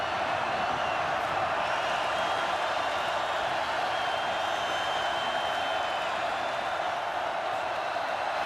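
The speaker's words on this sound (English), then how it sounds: "Crowd's getting into it." A stadium crowd roars at a 2019 Tennessee vs South Carolina college football game. The broad, steady wash of distant cheering holds at a constant level throughout, with no clear breaks.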